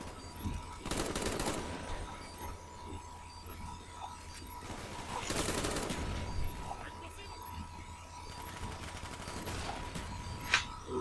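Galil rifle fire in the game Call of Duty: Black Ops, bursts of automatic shots in several separate volleys with short gaps between them, amid game background noise.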